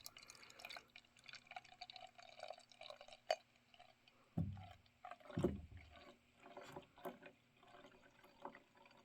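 Dark Belgian quad beer, Kasteel Barista Chocolate Quad, pours slowly into a glass with soft trickling and a couple of heavier glugs midway, close by against a quiet room.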